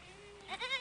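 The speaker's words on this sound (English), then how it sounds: "And here comes his daughter Rachel with the sheep" Sheep bleat in a biblical audio drama set at a well where a flock is being brought in: a faint wavering bleat first, then louder, quavering calls close by over a soft ambient bed.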